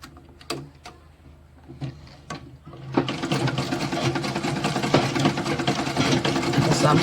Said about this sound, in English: Now my machine, I'll be giving 1 inch gap to be sewing it.